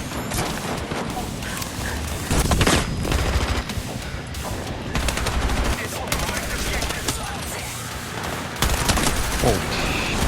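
M16 rifle fire in a video game, loud short bursts of shots repeating across the span, with steady background game noise between volleys.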